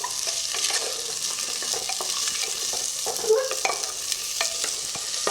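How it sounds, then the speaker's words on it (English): Potato sautéing in a pan for tomato soup, a soft frying sizzle with frequent spoon scrapes and stirring taps, close and clear with no speech. "I'm just going to saute this for about a minute or two"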